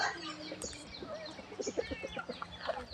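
Chickens at a temple in Chae Hom, Lampang, cluck in a busy, overlapping chorus of short calls as they wait for food, fairly faint with some soft background noise.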